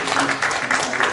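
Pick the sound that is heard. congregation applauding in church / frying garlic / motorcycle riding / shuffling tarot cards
congregation applauding in church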